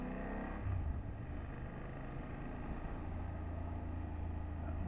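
A 2024 BMW F800GS motorcycle engine hums steadily while riding, a continuous low drone with a slight swell near the start, fairly quiet and unbroken throughout.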